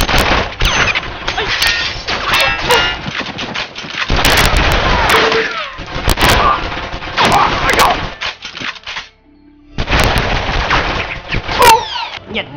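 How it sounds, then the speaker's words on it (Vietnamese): Rapid bursts of gunfire crackle through a gunfight scene in a Lucky Luke western film, loud and repeated in dense volleys with brief lulls, a narrator's voice running over parts of it. "Khi giờ về đến nơi thì Luke tung lên một đồng xu rồi bắt đầu nổ súng."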